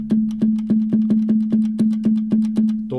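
Sampled conga hits from a music sampler repeat in a fast, even pattern, about a dozen punchy pitched slaps, loud and close, ending with a brief different tone.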